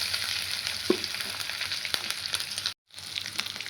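Tomatoes being stirred into jute greens (note shaak) frying in a pan, a steady close sizzle with scraping stir strokes and one brief dropout near the end.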